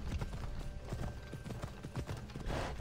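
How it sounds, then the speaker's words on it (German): Horse hooves drum in a steady clip-clop gallop in Assassin's Creed Odyssey, rapid and continuous at moderate loudness over a busy game soundscape. "Das Pferd läuft."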